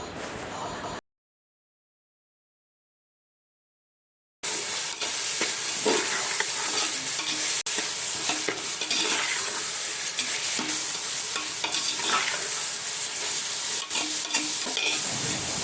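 Mushrooms and carrot stir-fried in a pan for mushroom fried rice, a continuous close sizzle with repeated scraping and tapping of a spatula over many seconds after a short gap.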